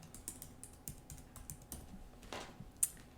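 Quick, light keystrokes on a computer keyboard, typed in a steady run of soft clicks at close range with no voices.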